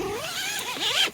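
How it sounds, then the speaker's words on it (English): A single zipper pull drawn along the door of an REI Wonderland 6 tent, a brief, close rasp with a rising whine near the end. "So the doors, I'll just zip this guy down."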